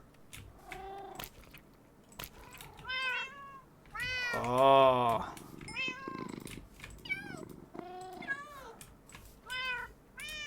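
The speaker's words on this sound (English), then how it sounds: "that cat tried to run away" Repeated meows from a Minecraft cat, several short cries and one long, loud drawn-out yowl, with a person briefly speaking.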